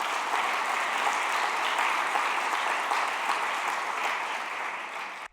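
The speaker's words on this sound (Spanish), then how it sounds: "dale un aplauso" Sustained applause from a church congregation, a dense even clapping that holds steady for several seconds before fading and cutting off.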